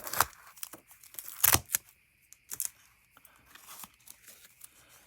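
Strong craft tape is peeled and torn off a surface while decorating holiday journals, heard as several sharp, close ripping bursts separated by quiet gaps.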